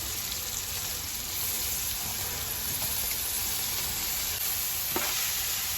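Basmati rice stirred in a pan of frying ingredients for an Andhra-style chicken pulao, a steady even sizzling hiss close by with a faint scrape or two, no talk.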